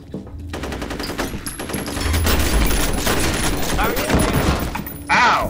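Video game gunfire crackles in dense, loud rapid bursts with heavy thumps, continuous throughout, mixed with voices talking.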